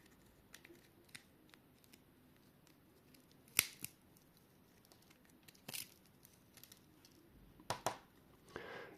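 Small wire cutters snip and pry apart an RES55A relay being dismantled for parts, sparse faint clicks and sharp snaps against a quiet background, with a few louder cracks near the end.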